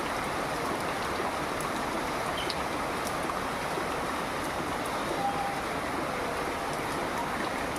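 Rain falls during harvest season on a misty day outdoors, a dense, even hiss of steady rainfall heard continuously and moderately loud with no clear voices.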